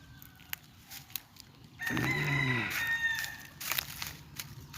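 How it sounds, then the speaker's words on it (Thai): A rooster crows once nearby amid scattered clucks and soft background farmyard noise. "ไก่เยอะมาก"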